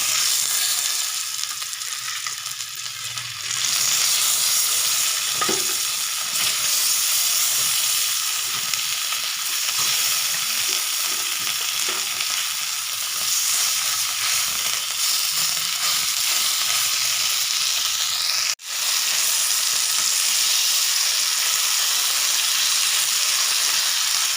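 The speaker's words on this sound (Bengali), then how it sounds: "এই মাছগুলো আমি একই রকমভাবে ভেজে নেব" Pieces of rohu fish fry in hot oil with a loud, continuous sizzle and crackle, close and steady, broken by a few scraping handling sounds and one sharp click near the end.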